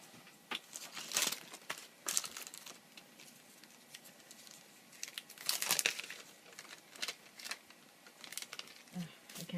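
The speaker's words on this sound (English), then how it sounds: "I can't get this out of the package" Plastic packaging crinkles and rustles in irregular bursts as someone struggles to open a package of card-making supplies, close and fairly quiet, with no talking.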